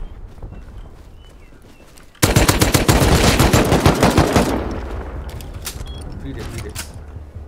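Loud machine-gun fire erupts in a raid in the video game Rust, a sustained burst of rapid shots that then tapers into scattered pops and clicks, with a voice speaking around it.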